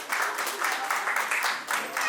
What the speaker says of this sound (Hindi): एक बार तालियां हो जाए इनके लिए।